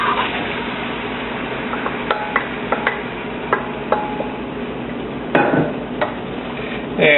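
Beans and bay leaves drop into a stovetop pot with onions and garlic, giving scattered light ticks and clinks, a couple of louder knocks and spoon scrapes over a low simmering hiss.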